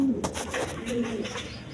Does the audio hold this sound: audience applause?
no